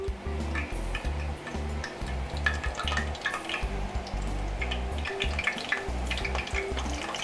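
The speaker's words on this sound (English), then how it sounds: "I can start hearing that oil make some noise. We're gonna start putting some potatoes in there." Potatoes being added to hot oil in a pan to make garlic parmesan fries, a soft crackle and sizzle with scattered ticking pops and some clattering handling sounds close by.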